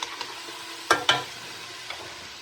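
Vegetables for a stew, seasoned with salt and tomato paste, are stirred in a pot, giving two close, brief scraping clatters of the utensil over a steady low background.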